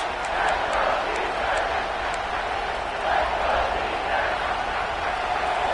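A big stadium crowd roars and cheers steadily at a college football game between Texas A&M and Pitt, with the defense near the goal line, a broad continuous wash of noise under a play-by-play commentator's voice.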